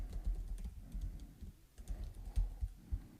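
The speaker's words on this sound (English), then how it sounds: "we're going to type in" Keys clatter steadily on a computer keyboard as a map name is typed into a box in QGIS mapping software, a close, quick run of soft clicks with a brief pause midway and no voice.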